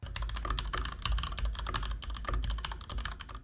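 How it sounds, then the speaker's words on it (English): Someone types on a computer keyboard with an extra keypad, producing fast, irregular clusters of close, crisp key clacks and thocks, with no talking over them. "this is my keyboard, and this is what it sounds like"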